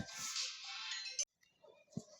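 A phone rings during a Hindi-language geography class lesson: a bright, steady electronic ringtone runs for a little over a second and then cuts off abruptly, followed by faint rustling and a soft thump with no speech.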